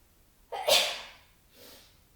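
A single loud, close sneeze with a sharp burst, followed by a softer breathy exhale.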